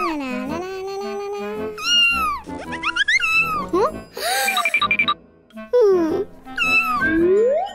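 Repeated plaintive meows from a thin stray cat, loud and near, with drawn-out bending cries separated by short pauses and some voices between them.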